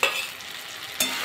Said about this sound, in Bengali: ফুলকপি দিয়ে আর 2 মিনিট আবার কষিয়ে নেব।